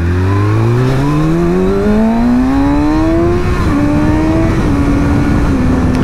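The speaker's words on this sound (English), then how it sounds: "There's lots of traffic right now" Road traffic passes nearby, led by a loud vehicle engine whose pitch climbs steadily as it accelerates and then holds, with no voices.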